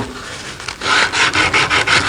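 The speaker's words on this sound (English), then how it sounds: "I'm sanding this" Close, rhythmic rasping of sandpaper rubbed back and forth over oak, rounding the edges of a small child's rocking chair, several quick strokes with no voices.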